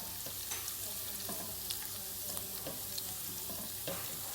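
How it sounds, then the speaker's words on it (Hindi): Puree added to garlic-flavoured ghee in a pan for an egg kofta curry, with a steady soft sizzle and scattered scraping stirs, fairly quiet and close, with no talk. "तो हम इसमें प्यूरी शामिल कर देंगे।"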